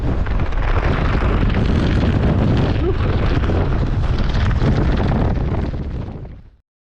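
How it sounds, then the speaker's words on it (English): Strong wind roars on an open, rocky mountain ridge in the Grayson Highlands, Virginia, buffeting the microphone as a loud, steady rumble that cuts off abruptly at the end. "wind."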